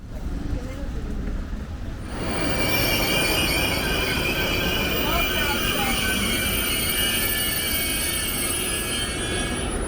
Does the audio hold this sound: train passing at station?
yes